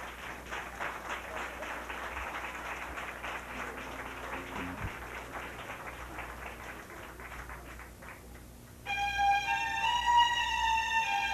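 A live audience claps steadily for a performer being introduced at a Quebec variety show near Montreal. The dense crowd applause lasts about nine seconds, then music begins.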